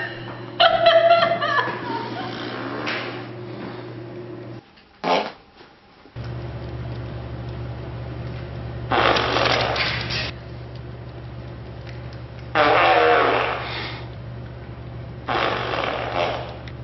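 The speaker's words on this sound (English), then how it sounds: "you said the fart machine doesn't bother me that much" Bursts of a novelty fart machine sound in a home, short buzzy blasts recurring at intervals over a steady low hum, with a person talking and chuckling between them.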